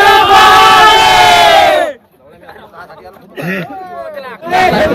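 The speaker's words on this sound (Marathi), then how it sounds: "मित्रांनो खूप गर्दी आहे." A large crowd of trekkers on the Harihar Fort trail chants together in a loud, sustained roar, then breaks into scattered shouts and chatter before a second burst of massed voices rises near the end.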